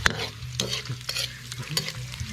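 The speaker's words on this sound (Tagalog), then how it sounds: "Lalagyan na po natin yung luya." Chopped ginger hitting hot oil in a pan, a continuous crackling sizzle punctuated by scraping stirs of a utensil against the metal, close and fairly loud with no talking.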